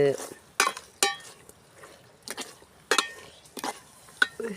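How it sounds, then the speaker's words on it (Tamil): A spoon stirs squid curry in a cooking pot, with potatoes going in. Scraping strokes against the metal come in irregular bursts over a soft simmering hiss, with brief clinks between them. "எல்லாம் போட்டு கிண்டி விட்டுட்டு"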